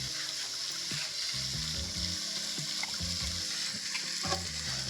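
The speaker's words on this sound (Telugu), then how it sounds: "చింతపండు పులుసు వేసుకొని దీనికి సరిపడి చింతపండు పులుసు వేసుకుందాం." Tamarind juice goes into a simmering mango and crab curry, giving steady sizzling with soft bubbling and a few scraping stirs of a utensil against the pot, without speech.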